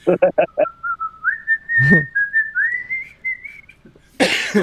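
A person whistles a few short notes, then a long wavering tone, close and loud, broken by a brief rough burst and ending in a breathy rush.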